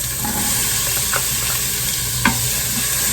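Celery, bell pepper and onion sizzle steadily in a hot Instant Pot while a utensil scrapes and stirs now and then, with a few soft clinks.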